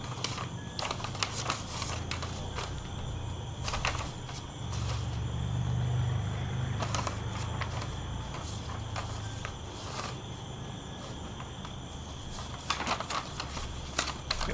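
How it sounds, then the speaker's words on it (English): Paper rustling and page flipping inside a dark horror video game, heard as repeated crisp crackles and quick flips in bursts over a steady low hum, with no talking. "A lot of paper sounds."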